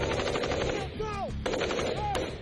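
Sustained machine-gun and rifle fire during combat in Afghanistan, a loud, dense stream of rapid bursts laying suppressing fire on a ridge, with a short lull and whistling sounds overhead.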